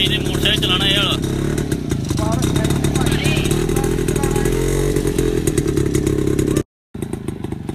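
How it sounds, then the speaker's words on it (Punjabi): A motorcycle engine runs steadily and loud throughout, with people talking over it, during film-shoot riding for Nikka Zaildar 2; the sound cuts out briefly near the end before resuming. "ਮੋਟਰਸਾਈਕਲ ਚਲਾਉਣਾ ਇਹ ਵਾਲਾ"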